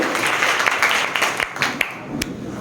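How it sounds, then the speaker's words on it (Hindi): Audience at a motivational speech event applauding together, a steady dense wash of clapping with a few sharper nearby claps standing out, no talking over it. "खड़े होकर जोरदार ताली बजाएं।"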